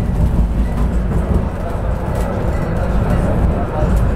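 A Bucur LF low-floor tram with metal interior paneling rides on rough track in Bucharest, making a loud, continuous rumbling clatter, with a voice talking over it.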